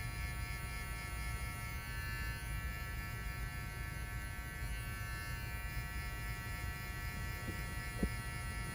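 Electric hair clippers buzzing steadily through a fade haircut on waves and curls, a constant close motor hum that runs without a break, with a small click near the end.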